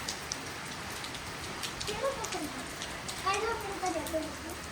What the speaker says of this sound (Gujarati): ગાઈસ ફરીથી વરસાદ ચાલુ થઈ ગયો છે